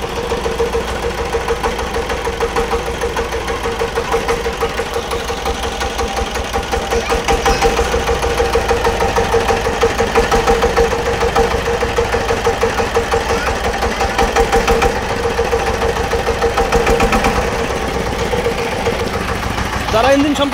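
A little-used engine idles steadily at close range, a loud, even mechanical chugging with a faint ticking knock that holds for the whole stretch, with no talk over it.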